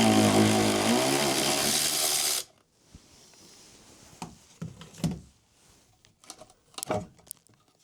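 A power tool spins out 13mm bolts from the shift box of a VW Golf Mk2, one loud continuous whirring burst of a couple of seconds that cuts off, followed by scattered quieter clinks and knocks of handling parts.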